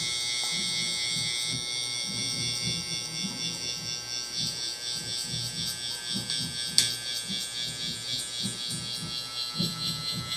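Electric hair clippers with a one guard and the lever open hum steadily while cutting curly hair during a barber's blowout taper, a close continuous buzz throughout with a brief click near the middle and faint talk underneath.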